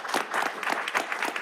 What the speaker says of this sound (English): I think we should all give a round of applause to you.